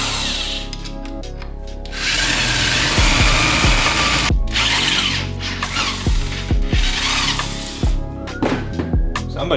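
Strut hardware on a Mk6 Golf GTD being tightened with a ratchet during a harness bar install: loud, busy mechanical clicking and whirring, with a dense stretch in the middle and sharp individual clicks near the end.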